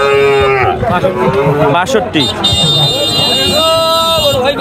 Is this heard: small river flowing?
no